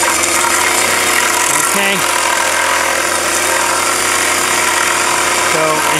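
Grinder cutting down a tree root, a loud, steady roaring whine that runs the whole time with a brief spoken word over it.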